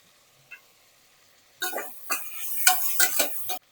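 Sliced onions with chili and biryani spices being sautéed in a pan, a few soft scrapes at first, then a burst of close, loud stirring scrapes and clinks against the metal over a low sizzle.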